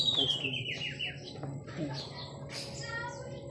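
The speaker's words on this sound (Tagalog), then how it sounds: "may ibon" A bird chirps in quick, bright tweets that sweep downward, over a soft background murmur.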